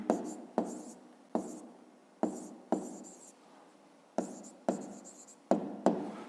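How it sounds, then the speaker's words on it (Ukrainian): A pen writes an answer by hand on paper with quick close scratching strokes in short repeated bursts and brief pauses between them. "Ну що ж, записуємо відповідь. Пишемо відповідь."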